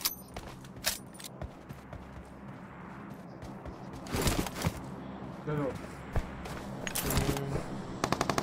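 Gunfire in the BGMI battle royale game, with scattered sharp single shots and short bursts, some loud and close, others farther off, punctuated by footsteps and game effects, with occasional voices.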